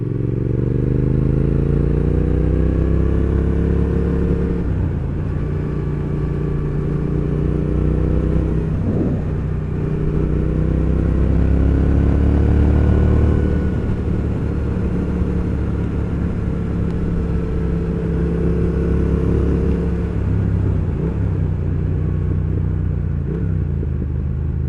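A Triumph Thruxton R motorcycle ridden along a road, its engine a loud, continuous low rumble heard up close with wind noise, rising and falling in pitch as it shifts and changes speed.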